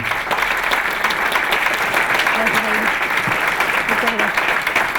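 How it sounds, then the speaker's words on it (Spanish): An audience at an event about the situation in Syria breaks into welcoming applause, dense steady clapping filling the room throughout, loud and continuous. "les pido un aplauso de bienvenida para ella"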